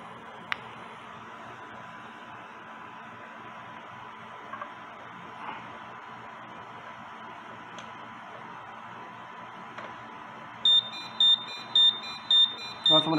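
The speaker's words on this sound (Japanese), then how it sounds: "ガス漏れ検知器作動。" A gas leak detector on a gas leak fire alarm system is triggered with test gas during a Japanese inspection. A low steady hum runs first, then about five loud, evenly spaced electronic beeps sound near the end.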